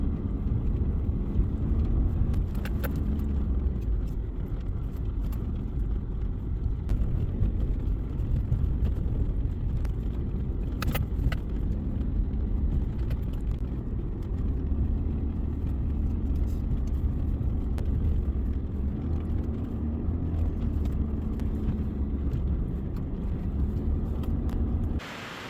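The Tow Beast vehicle drives toward a snowy cabin turnoff, a steady loud engine drone and road rumble continuing alone, with occasional knocks and rattles.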